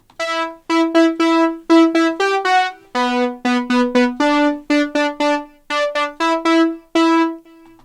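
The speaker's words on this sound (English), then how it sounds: "the little riff that we play throughout on the OSX Mini patch" An 80s-style electro synth riff plays on the Cherry Audio Chroma OSX Mini patch: a bright, buzzy lead of short staccato notes in a bouncy rhythm, loud and alone, with brief gaps between phrases and a final held note.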